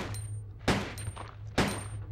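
Three sharp gunshots ring out at an enemy in Resident Evil 2, spaced about a second apart over a low steady hum, each a crisp crack with a short tail.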